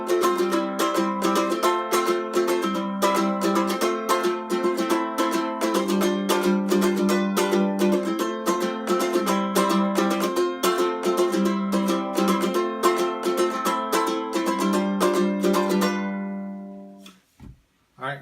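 Acoustic guitar strumming a chord progression with added notes, steady rhythmic strokes changing chords every few seconds, close and bright, ending with a final ringing chord and a brief pause.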